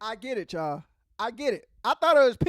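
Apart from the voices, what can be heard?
No distinct noise like a dog, phone or traffic.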